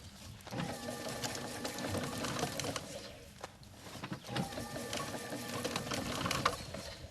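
An elf garland machine runs with a steady, busy mechanical whirring and clatter that swells and eases in two repeating cycles, close and moderately loud.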